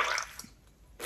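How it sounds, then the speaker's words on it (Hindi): A beauty blender makeup sponge pressed down into water gives a short wet squelch and splash at the start, a quiet pause, then another squish at the end, close and fairly soft. "इसको डालना है, प्रेस करना है, ताकि इसके अंदर पानी जाए,"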